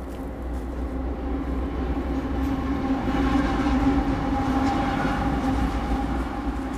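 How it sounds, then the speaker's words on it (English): Freight train pulled by two engines departing, a steady low rumble with a droning engine tone running continuously and close by, no talk over it. "I think this train's leaving."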